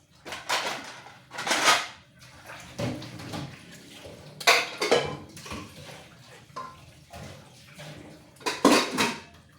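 Dishes, plates and pots clatter at a home sink during washing, with loud irregular clanks and scrapes of crockery and cutlery over running water, close by and without talking.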